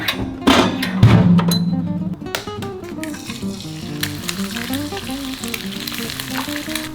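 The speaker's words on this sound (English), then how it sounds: "We got those things frying" Food sizzles steadily in a hot pan, loud and close, with a burst of spitting at the start and background clatter over a continuous frying hiss.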